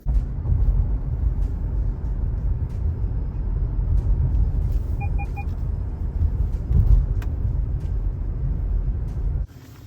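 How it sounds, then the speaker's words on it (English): A car engine runs steadily with a low, continuous rumble throughout, a couple of faint beeps partway through, as the warmed-up car pulls away for a drive. "my car is warmed up enough, so let's go"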